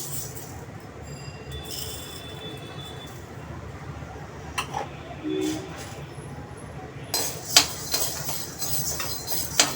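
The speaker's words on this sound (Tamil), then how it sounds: "அடுத்தது உளுத்தம்பருப்பு வறுத்துக்கணும்" A utensil stirs and scrapes urad dal as it dry-roasts in a pan for idli podi, giving irregular clinks and scrapes of metal against metal over a low background hum. The sounds grow sharper and louder toward the end.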